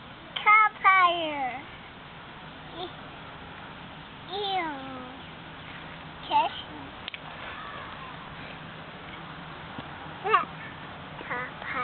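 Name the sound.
cat meowing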